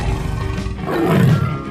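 A tiger in a 3D animal video game lets out a deep, rumbling roar that swells louder toward the end, a single sustained growl heard alone and close.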